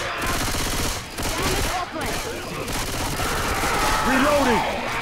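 Dense, continuous gunfire from Left 4 Dead 2 on Xbox 360, rapid overlapping bursts filling the whole stretch at close range, with voices talking over the shooting.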